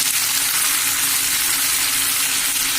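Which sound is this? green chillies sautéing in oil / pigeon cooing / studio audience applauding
green chillies sautéing in oil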